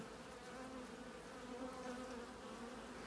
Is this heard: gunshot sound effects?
no